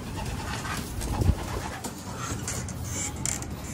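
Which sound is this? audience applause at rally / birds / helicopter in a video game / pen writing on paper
birds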